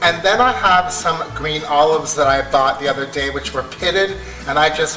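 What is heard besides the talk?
None of the usual background noises is heard.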